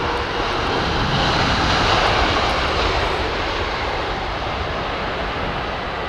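A five-year-old Boeing 777 airliner roars steadily overhead as it comes in to land, its loud, continuous jet engine noise filling the air without any voices.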